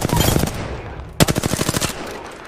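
Automatic gunfire in Apex Legends, two loud close bursts of rapid rhythmic shots with a brief gap between them, and no voices over the shooting.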